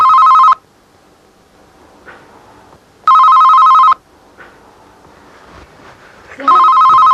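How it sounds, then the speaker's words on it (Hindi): A telephone bell rings loudly in three separate bursts with quiet gaps between them, in an indoor drama scene. "बियापा का फोन है।"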